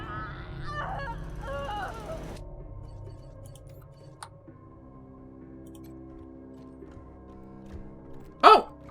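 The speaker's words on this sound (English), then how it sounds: "Oh! Cyborg chicken." A cyborg chicken in Wasteland 3 gives a couple of bursty, nasal honk-like clucks early on, followed by quiet game ambience with a faint tick, and a short sharp burst near the end.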